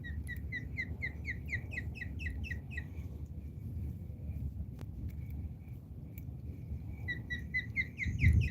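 A bird calls from a nest in a fast series of bright chirps, pauses, then starts again, all over a low background rumble.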